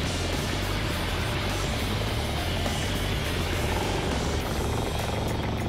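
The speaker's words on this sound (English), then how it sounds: "Seahawk transforms from a chopper into a combat airplane." A Seahawk military helicopter in flight gives a loud, steady rotor and engine roar that fills the whole stretch without pause or talk.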